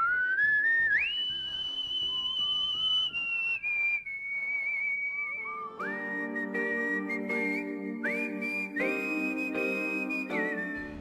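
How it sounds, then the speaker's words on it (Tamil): A professional woman whistler performs a song, with clear, sustained melodic whistled notes. The notes glide between pitches, pause briefly, then continue in a richer section with harmony-like backing. "விசிலிங்க ஒரு கலையா பாவிச்சு விசில்ல பாடுறதுக்கு தான் நாங்க ப்ரொஃபஷனல் சொல்றோம்."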